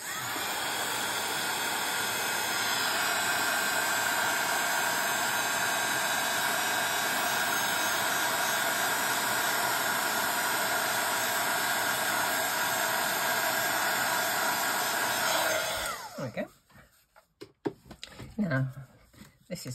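Heat tool blowing hot air to set embossing on a gift envelope card, a loud steady roaring hiss held for about fifteen seconds before cutting off into handling noises.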